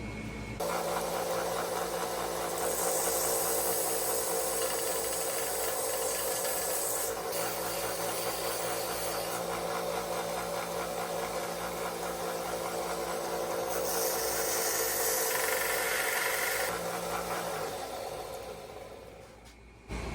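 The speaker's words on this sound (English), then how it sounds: "So what I got to do is take that and sand it flat right here with my sander over here." An electric sander grinds the end pins of a Camillus utility knife flat, giving a loud, steady whirring buzz with brief surges as the metal is pressed in, then spinning down near the end.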